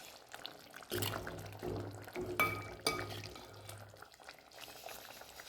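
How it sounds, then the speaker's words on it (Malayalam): Bitter gourd curry with fried bitter gourd gently simmering in a pot, a soft bubbling and liquid burble with a few faint clinks, fairly quiet and steady without talk. "എന്നാലും ചെറുതായിട്ടൊന്ന് തിളച്ച് വരുവേ വേണ്ടു"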